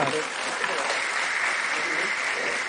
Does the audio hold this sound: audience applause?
yes